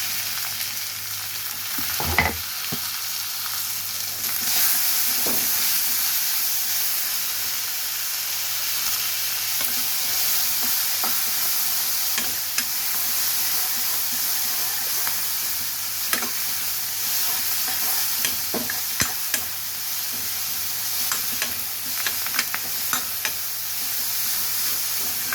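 Tomato frying in a pan for a village-style mudakathan kuzhambu, with curry leaves added, hisses in a steady sizzle while a spoon scrapes and stirs with occasional sharp clinks, close and continuous.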